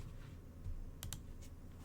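Faint, quiet keyboard typing, a few soft key clicks over a low background hum, brief and close.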